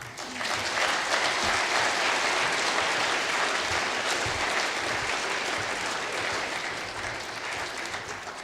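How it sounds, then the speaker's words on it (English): Audience applause after a forest industry lecture: dense, steady clapping from a large crowd that fills the room and holds at an even level throughout, with no voices rising above it. "Let's give another round of applause for our sponsor as well as for David's wonderful talk here."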